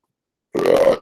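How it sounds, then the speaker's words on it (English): A single short, throaty burp from a man, about half a second long, loud and close, following a moment of silence. "I'm burping because I'm fat and I have gas."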